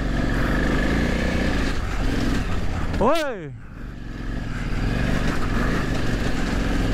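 A KTM adventure motorcycle rides off-road over fine gravel, its engine droning steadily and loudly with a brief rev and dip midway, while the rider talks over it.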